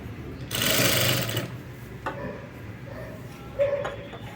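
A sewing machine stitches folded piping onto cloth in one loud, buzzing burst lasting about a second, followed by quieter handling clicks and brief short whirs, close up with no talk.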